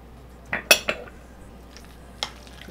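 A spoon stirs guacamole ingredients with cumin and cayenne in a bowl, giving a few sharp clinks and scrapes close by in under a second, followed by a single fainter knock.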